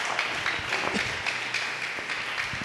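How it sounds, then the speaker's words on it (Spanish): Congregation applauding inside a church, a steady wash of many hands clapping at moderate level for a few seconds with no voices standing out. "Brinden un aplauso al Señor,"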